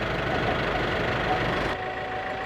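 A tractor engine idles nearby during hay mowing, a steady low knocking rumble with a constant hum that drops slightly in brightness near the end, with no talk.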